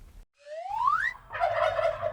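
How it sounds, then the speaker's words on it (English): A backyard chicken calls out nearby: a rising squawk, then a short rough burst of clucking, loud and close against a quiet background. "Come here, chicken."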